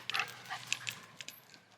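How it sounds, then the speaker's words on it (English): A lively cockapoo yips and whimpers in short excited bursts at a campsite by a military air base, close by and fairly quiet, with no talking. "One mad cockapoo."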